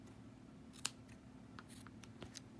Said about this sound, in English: you can start the trimming process and get those off there now